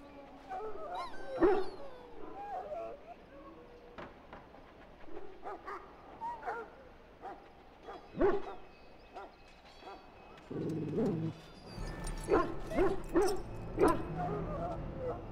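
A dog in the video game Dragon Age: Origins whimpers and lets out sharp yips and barks at scattered moments, with a character speaking between the cries and a low hum of game ambience underneath.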